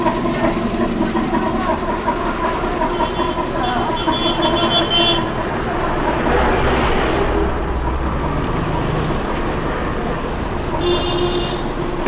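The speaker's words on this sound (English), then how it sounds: "So we have just started the car on petrol" A car in Bangalore runs on petrol, with its engine idling in a steady, loud, close drone. Brief higher tones and faint background noise sit on top of the hum throughout.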